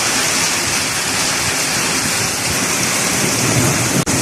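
A loud, unbroken roar of torrential rain driven by wind pours over a garden and gutters, steady and close throughout, with a brief dip near the end and no voices.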